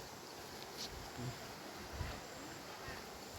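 A stream flows through the forest on a trip into the woods, a constant broadband rush of water mixed with wind buffeting the microphone and a few soft low thumps.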